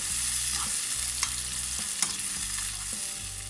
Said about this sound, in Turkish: üzerine bir miktar zeytinyağı, yarım çay kaşığı kadar tuz ve güzelce kavurmaya başlıyorum